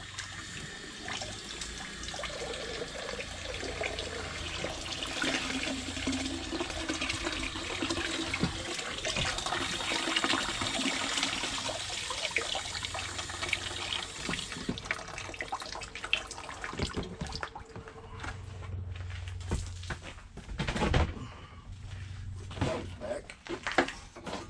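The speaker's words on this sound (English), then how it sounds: "Then I take the hose. Just easily rinse this down." A hose sprays and rinses down a recirculation tub during prospecting in Arizona, a long, busy rush of running water with splashes, loud and close. Talk is heard in places.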